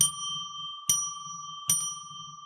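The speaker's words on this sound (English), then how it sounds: "first we'll ring a bell 3 times to declare sacred space." A small bell struck three times at even intervals, each strike a bright, clear ding that rings on and decays between hits, close and alone with no talking.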